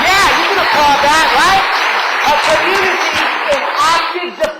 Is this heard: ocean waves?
no